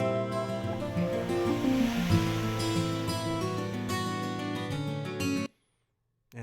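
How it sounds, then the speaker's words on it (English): Swoosh effect from an Omnisphere synth patch, a broad rushing surf-like sweep layered within a dense mix with guitars, running steadily for several seconds before cutting off abruptly into silence. "there's kind of a swoosh again on Omnisphere"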